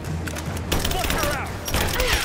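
Gunfire in the video game Rise of the Tomb Raider, a busy burst of rapid shots and impacts crackling over layered game effects and music, close and loud throughout.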